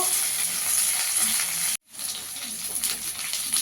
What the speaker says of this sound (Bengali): শিমগুলো দিয়ে একটু লাল লাল করে ভেজে নেব